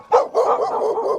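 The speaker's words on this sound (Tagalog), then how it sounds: "Nagulat sila nang may biglang lumapit na aso na tila galit na galit sa lalaki." A dog barks angrily at a man, several sharp, loud, close barks and yips run together in a quick agitated burst.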